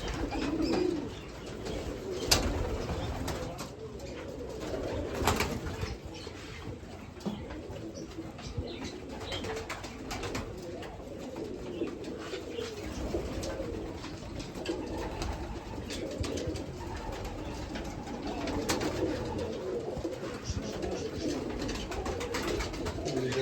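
Pigeons cooing repeatedly nearby, soft throaty calls over a steady background of rustling, shuffling and occasional wing flutters, with no speech.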